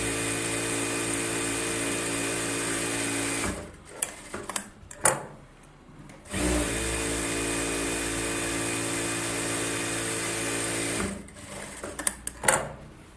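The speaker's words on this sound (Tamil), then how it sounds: "இப்போ 4 தையல் போட்டுறேன்." A sewing machine stitches a blouse in two long, steady, loud runs of rapid mechanical whirring, separated by a pause filled with clicks and small handling knocks, with more knocks at the end.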